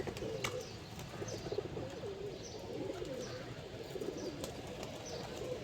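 A pigeon coos in repeated soft bursts close by, with occasional wing flaps, over a steady outdoor background and no talking.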